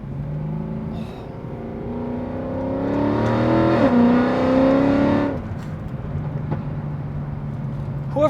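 A catless Mercedes CLK63 Black Series engine runs loud and close, a raspy steady drone that swells as revs climb for a couple of seconds, then drops back to a rough idle.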